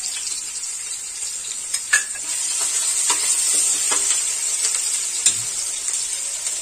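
Curry leaves dropped into oil in a pan while preparing pav bhaji give a steady sizzling hiss, with a few soft stirring clinks and scrapes of a spoon scattered through it. No voices.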